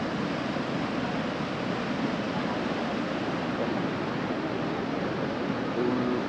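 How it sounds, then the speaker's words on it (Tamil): River water rushes at full flow through Brindavan Garden in Mysore, a dense, unbroken roar heard close and steady from start to finish with no talking. "பயங்கரமாக தண்ணி ஓடுதுங்க அப்படியே."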